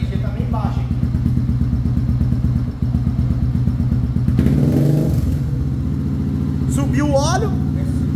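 A Honda CB 300F Twister with an Athlon programmable ECU idles with a loud, rapid, close-up thumping beat, dipping briefly before picking up again as the throttle is blipped, while someone talks over it.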